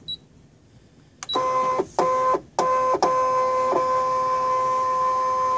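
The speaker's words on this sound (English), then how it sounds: "We're going to tell it to scan" A Scan N Cut cutting machine scans a quilt magazine template on its mat, giving a steady mechanical whirr with a tonal motor hum, broken by a few short clunks and pauses near the start before running continuously.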